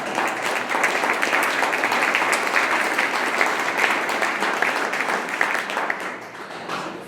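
A large audience at a political talk in Orem, Utah breaks into dense, sustained clapping that stays loud and full for several seconds before thinning slightly toward the end.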